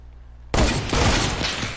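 Sudden loud burst of video game gunfire, a sharp crack from a sniper shot that cuts in after a quiet moment and rings on as dense sustained noise through the rest of the moment.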